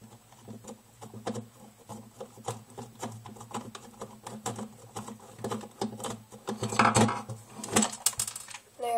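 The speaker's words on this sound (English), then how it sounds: "I'm just trying to get these screws out as fast as possible." Screws being worked out of an Xbox 360 controller, a string of small close ticks and clicks in an uneven, rapid rhythm that grows busier and slightly louder toward the end.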